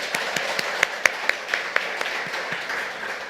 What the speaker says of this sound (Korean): 말라리아 교육재단 힘찬 응원의 박수 한번 부탁드립니다